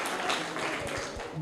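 Audience in a classroom quiz applauding for a correct answer, a steady wash of many hands clapping close by and fairly loud, with no voice over it.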